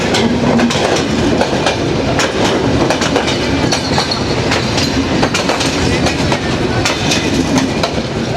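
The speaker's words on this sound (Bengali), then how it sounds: "এই যে ট্রেন চলে গেল" A train rumbles through a busy fish market on a rail line, a loud continuous roar with rhythmic clickety-clack of wheels on the tracks close by throughout.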